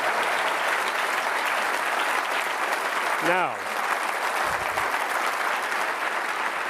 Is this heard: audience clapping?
yes